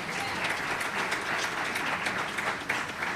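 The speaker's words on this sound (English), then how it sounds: "would you give them an enormous and wonderful applause?" A conference audience at a Black women's politics event applauds steadily, dense sustained clapping filling the room at moderate loudness without any voices over it.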